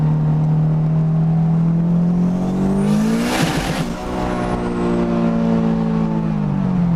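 A turbocharged 500 hp 2003 Honda S2000 AP1 accelerates with a loud, steady engine drone that climbs in pitch. Around the middle there is a brief tire squeal and a dip before the revs settle again.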